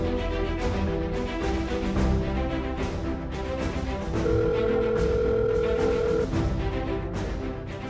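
A steady telephone tone sounds after a call is cut off, loud and continuous under a layered musical background, with a brighter tone joining midway.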